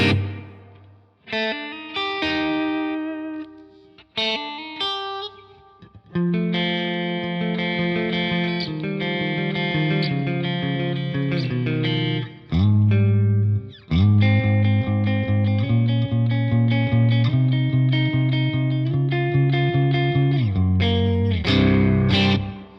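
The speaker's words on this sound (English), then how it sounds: "And then we've got the reverb and the delay on." A distorted electric guitar plays chords and single notes with heavy gain, washed in reverb and trailing delay echoes, with short pauses between phrases.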